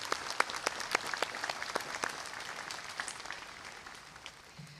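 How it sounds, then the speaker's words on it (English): Applause from the audience at a university commencement ceremony in Hawaii, sharp individual claps over a crowd wash that gradually thins and fades toward the end. "Please give them a round of applause."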